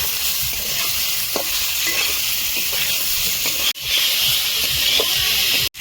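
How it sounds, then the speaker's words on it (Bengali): Sliced radish frying in spiced oil in a home kitchen, giving a steady loud sizzle and hiss with occasional stirring scrapes, briefly broken by a short pause. "মূলাটা ভালো করে নেড়ে নেব।"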